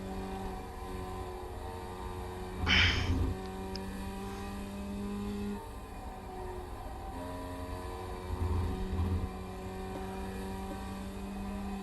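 A race car engine in the iRacing VR sim drones steadily with a brief, louder rasp of a downshift blip, then settles back into a sustained engine hum before a second, milder swell later on.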